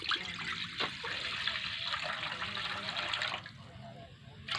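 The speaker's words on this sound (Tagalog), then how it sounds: "lagyan natin ng tubig" Water streams and splashes steadily into a frying pan for bangus sinigang, a continuous close pour lasting several seconds before easing off near the end.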